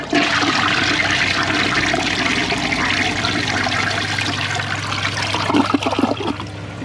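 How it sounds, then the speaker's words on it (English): Close flush of a 2003 Crane Galaxy Elite toilet, a sustained loud rush and trickle of water over a low droning tone, ending in a brief gurgling swirl before the flow settles. "Here's another flush at this angle."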